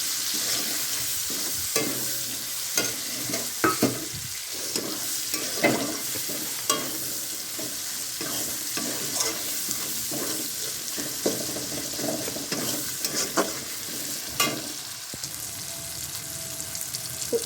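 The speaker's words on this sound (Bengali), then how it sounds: "এবার আমি এতে দিয়ে দেবো যে টমেটোটাকে কুচিয়ে রেখেছি সেটাই কিন্তু দিয়ে দিচ্ছি চলো এটা দিয়ে ওই হালকা করে ভেজে নিতে হবে" Chopped tomato frying lightly in a pan for chicken chow mein, a constant hiss of sizzling under irregular taps and scrapes of a stirring spoon against the pan.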